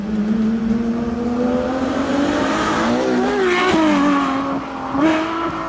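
A high-revving stock sports car engine screams continuously toward 8,900 RPM, its pitch climbing and dipping through several rev sweeps, loud and close with no voices.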